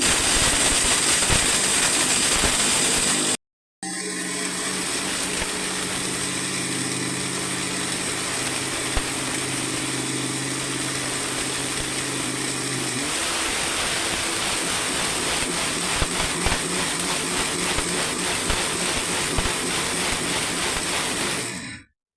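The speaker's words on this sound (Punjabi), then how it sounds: "ਹੁਣ ਆਪਾਂ ਸੌਂਫ ਤੇ ਸਰਨਾ ਮਿਸਰੀ ਪਾ ਕੇ ਬਰੀਕ ਕਰਦੇ ਆਂ ਜੀ" An electric kitchen grinder whirs loudly as it pulverizes fennel seeds and rock sugar candy into powder, running in a continuous high drone with a brief cutoff early on, then ending abruptly.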